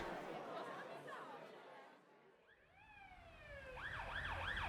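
Police siren wailing through the night outside a heritage palace, rising and falling sweeps that swell to full loudness near the end, emerging over a murmur of background chatter.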